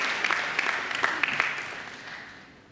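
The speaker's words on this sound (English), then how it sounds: "I think John deserves another great round of applause for an outstanding occasional" A round of audience applause at a Macquarie University graduation ceremony, moderately distant and steady, gradually fading out over a few seconds.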